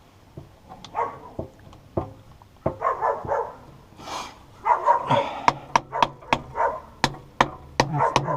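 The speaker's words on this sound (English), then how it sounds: "It's one of the new puppies." A new puppy gives a run of sharp, close yips and barks. They come in irregular bursts, some quickly repeated, with a few whimpering sounds between them.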